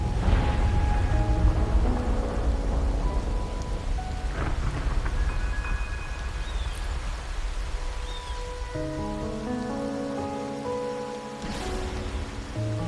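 A thunderstorm in the video game Wuthering Waves: a dense, steady roar of heavy rain with low thunder rumble, loud and continuous, with soft game music tones layered faintly above.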